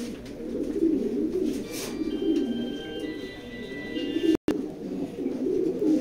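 Racing pigeons coo in a low, steady murmur that runs throughout, close and continuous, with a few faint higher chirps above and a brief dropout partway through.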